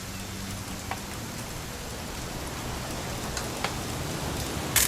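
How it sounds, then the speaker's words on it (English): Steady rain falling in the video game What Remains of Edith Finch, a constant even wash of drops with faint scattered ticks and no voices. "It's gonna rain the whole weekend"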